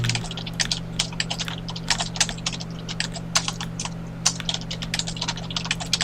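Rapid, uneven clicking of keys on a computer keyboard, close and continuous for several seconds, over a steady low electrical hum and no talking.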